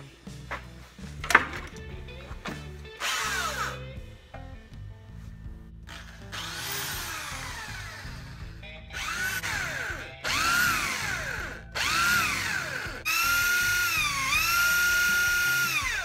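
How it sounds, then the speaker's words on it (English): A 3/8 drill bit bores a hole to be tapped for a fan bolt thread while a DIY dust collector blower is built from a Billygoat debris loader; the whine rises and falls in separate pushes, ending in long steady runs. "The drill bit size you have to drill is 3/8, so if you do it too tight, the tap could bind up."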